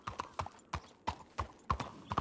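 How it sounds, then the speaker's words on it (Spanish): Horse hooves clip-clop in Red Dead Redemption II roleplay on RedM, about eight sharp, close strikes in an uneven gait, with no talking. "Uy, que se pone tenso el caballo."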